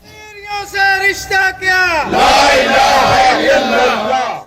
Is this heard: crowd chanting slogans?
yes